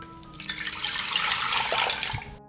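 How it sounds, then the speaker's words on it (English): Water pours from a tap into a cooking pot, a bright rushing splash that swells and then cuts off abruptly after about two seconds. "I pour 1 liter of water into the pot."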